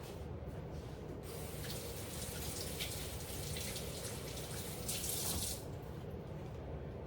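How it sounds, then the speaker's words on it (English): Tap water runs steadily into a kitchen sink for hand washing during cooking, a continuous close hiss and splash with a brief louder surge near the end, no talking. "Wash my hands."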